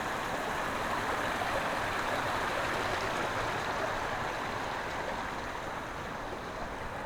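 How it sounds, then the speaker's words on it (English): A creek flows through the woods of Matagalpa, Nicaragua, giving a steady, dense rush of running water that stays at an even level throughout, with no voices. "Look at the creek."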